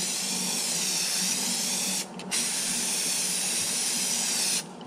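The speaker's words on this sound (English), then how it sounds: "So let's go ahead and spray this on." A can sprays a gloss coating onto a fishing lure mold in one steady, close hiss, broken by a short pause about halfway through, then continuing before it cuts off near the end.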